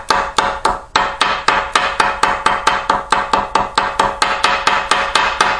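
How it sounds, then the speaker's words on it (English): A hammer buttons out the top of a soft copper rivet on an M17 helmet liner, with about twenty sharp, evenly spaced taps in a brisk, steady rhythm. The taps are close and loud with no talk. "you want to button out the top of that copper rivet. You don't have to hit it hard."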